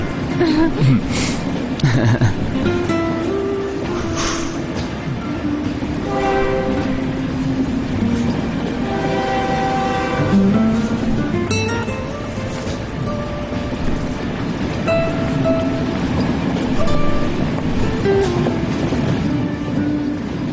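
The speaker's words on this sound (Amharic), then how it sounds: "ባቡሩ እየሄደ ነው።" A departing train rumbles and clatters along with a horn sounding, while voices and other tonal sounds carry over the steady rolling noise.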